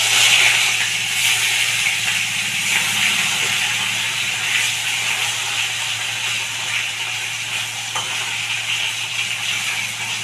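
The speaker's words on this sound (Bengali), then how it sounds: "মাছটা ভাজা হয়ে গেছে, আমি এখন তুলে নিচ্ছি আর বাকিটা এইভাবে ভেজে নেব।" Fish shallow-frying in a home kitchen pan, giving a steady close sizzle and hiss with faint stirring clicks throughout, no voices.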